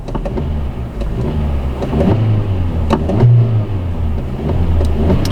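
A Kia K3 gasoline engine idles in neutral and is revved with the accelerator, several short quick rises and drops in engine tone under a steady low hum, heard close and alone.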